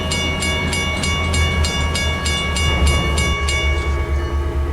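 Steam locomotive running in the Trainz railway simulator, a steady rolling rumble with a regular run of rhythmic clicks from the wheels or exhaust, continuous and fairly close with no voices.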